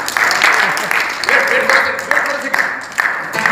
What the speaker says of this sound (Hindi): आर्टिस्ट के लिए तालियां हो सकती है।